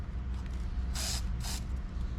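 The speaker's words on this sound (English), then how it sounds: "I just put a little spray paint on this plastic bag" An aerosol spray paint can spraying onto a plastic bag, two short hissing bursts close by over a low steady background hum.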